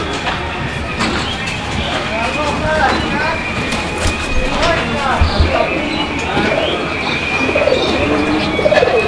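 A Pakistani pigeon at a Bangladeshi pigeon farm coos in repeated rolling calls, close and fairly loud, while someone talks over it amid background noise.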